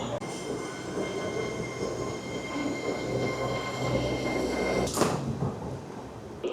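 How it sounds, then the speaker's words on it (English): A passing TransPennine Express Class 802 train rumbles steadily with high whining tones from the wheels and rails, followed by a brief sharp burst near the end. "The train that just passed me over there was a Trans-Pennine Express Class 802 going to Liverpool"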